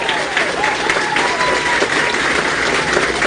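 A crowd at a formal municipal ceremonial session gives a round of applause, continuous dense clapping at an even level with faint voices beneath.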